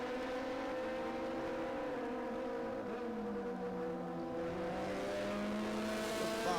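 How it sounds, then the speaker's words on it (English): A race car sweeps past on a racetrack, its engine a sustained high buzzing whine that swells and then drops in pitch as it goes by, moderately distant, with another car's note rising at the end. "Just going by, that was Akhil Rabindra, who's been very impressive through this race."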